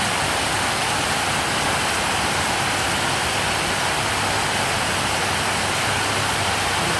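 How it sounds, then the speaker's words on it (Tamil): Heavy rain pours steadily, a dense and loud hiss that continues unchanged from start to finish. "ஆனால் மழை நல்லா கனமழை"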